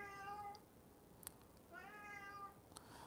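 A cat meows twice, two clear drawn-out cries about two seconds apart, fairly faint against a quiet room background with a couple of small clicks.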